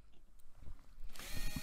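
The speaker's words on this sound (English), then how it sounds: "So, first step, drilling out the rivets." A small power drill bores out the rivets on a Matchbox No.31B Ford American Station Wagon model car, starting with soft handling noises before the drill spins up into a close, high, steady whir.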